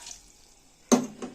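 A glass of water poured into a pressure cooker pot holding beef with garlic and ginger, a sudden splashing gush after near silence, close and fairly loud, continuing briefly with no talk.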